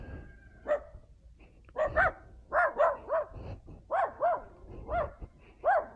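Repeated sharp barks from a dog come in irregular pairs and singles, moderately loud against a quiet background.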